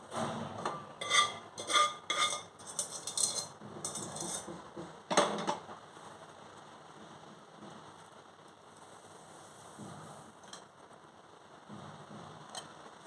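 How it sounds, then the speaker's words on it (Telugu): Hot tempering is added to a cucumber and sesame chutney in a pan, giving a burst of crackling sizzle over the first few seconds that fades to a faint hiss with a few soft clinks; no talking. "ఇప్పుడు మనం పోపు వేసేసుకుంటున్నాం నేను ఆల్రెడీ పోపు పెట్టేసి ఉంచాను"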